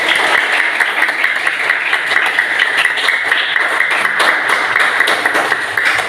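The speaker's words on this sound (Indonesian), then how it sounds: "Tepuk tangan dong dari teman-teman." Fifth-grade schoolchildren clap together in a primary school classroom, a brisk, continuous patter of many small hands that stays close and fairly loud throughout.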